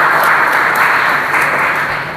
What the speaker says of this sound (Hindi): एक बार जोरदार ताली उस बात के लिए हो जाए।